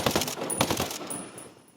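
Rifle fire from an AK in the video game Ghost Recon Breakpoint: a quick burst of several sharp shots in the first second, then a fading ring-out tail.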